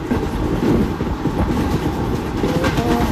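A train in an Indian train simulator video game rolls steadily along the rails with a loud, continuous rumble and a rhythmic clickety-clack of the wheels, heard close up and alone.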